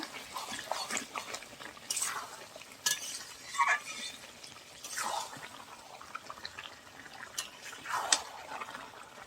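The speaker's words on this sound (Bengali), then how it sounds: "লবণ দিয়ে ভালো করে মাংসটা মিশিয়ে নেব" Meat being mixed with salt in a pot by hand, with wet squelching, stirring and occasional clinks of utensils in short irregular bursts, close and moderately quiet.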